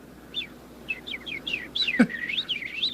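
Small bird chirping in a series of light, quick high tweets and short trills, close and fairly clear, with a brief louder call near the middle and a quiet background.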